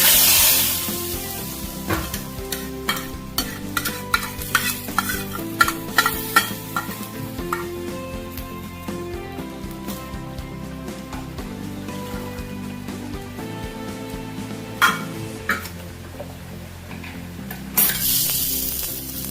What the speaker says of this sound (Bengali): জিরে ভাজা ফোড়ন দিয়ে দিচ্ছি